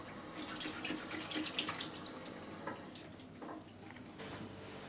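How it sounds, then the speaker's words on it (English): Water runs steadily from a tap as hands are washed at a sink, a continuous splashing wash with a few brighter drips and splats rising above it, fairly close and with no voices. "Or when washing your hands."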